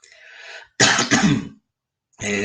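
A person coughs and clears their throat up close, a couple of rough bursts separated by brief silence.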